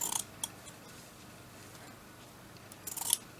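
Pinking shears snipping through paper or fabric for a vintage doily book cover, a few quiet crisp cuts at the start and a brief cluster of faint snips near the end, alone in a quiet room.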